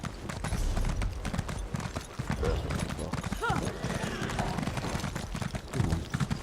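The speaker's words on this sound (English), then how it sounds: "Let's get on the horse." Horse hooves clip-clop at a riding pace in an Elder Scrolls video game, a steady rhythm that runs through the whole stretch, with game sounds and talk layered over it.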